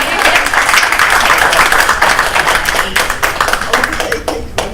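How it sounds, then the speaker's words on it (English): Continuous dense clapping from a crowd, steady and loud throughout, with some voices mixed in. "Oh, that's another clap."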